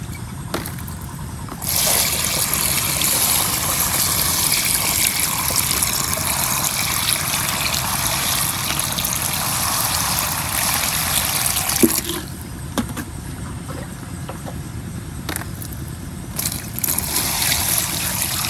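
Water pours steadily into a sprayer tank to dissolve calcium nitrate for spraying rice seedlings, making a continuous rushing splash that briefly stops midway, then resumes.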